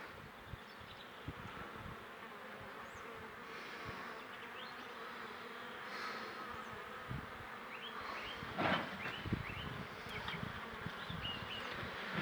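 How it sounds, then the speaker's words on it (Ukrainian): A steady, dense buzz of many honey bees leaving the hive during willow pollen collection, with a few louder close passes and faint rustling near the end. "Тільки виходить бджола з вулика."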